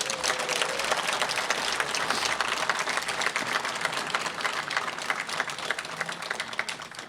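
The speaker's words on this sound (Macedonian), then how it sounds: "Прво би замолил за еден огромен аплауз за новиот градоначалник Зоран Бајовски." Loud crowd applause fills an outdoor political rally in the Čučer-Sandevo municipality as people welcome the new mayor: steady, dense clapping that goes on without a break.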